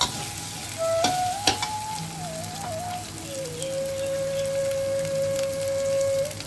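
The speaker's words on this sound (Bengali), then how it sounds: "আদা আর পেঁয়াজটা খুব ভালোভাবে কষানো হয়ে গেছে" Ginger and onion frying in a pan for a traditional Bengali prawn malai curry, a steady close sizzle with a few sharp stirring clicks and no talking.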